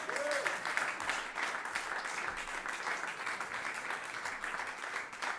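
A live concert audience applauds the vinyl engravers, with steady dense clapping from a crowd that holds evenly throughout, moderately loud.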